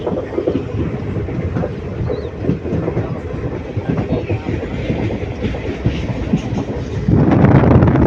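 A South Indian Railway train runs along the forest route between Dharmapuri and Salem with a steady rumbling roll and faint clickety-clack of the wheels, then grows suddenly louder near the end.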